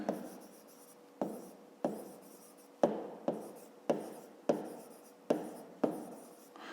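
A pen writing numbers on paper during a fifth-grade maths exercise, making about a dozen close scratchy strokes, each a sharp onset fading quickly, in a quiet room with no talking.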